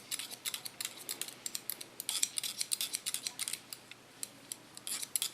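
Rapid, crisp snipping of scissors with light comb strokes, close by, in an irregular stream of short metallic clicks and no talking.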